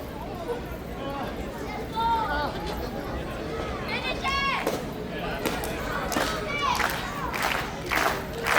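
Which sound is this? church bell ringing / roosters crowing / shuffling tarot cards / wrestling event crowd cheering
wrestling event crowd cheering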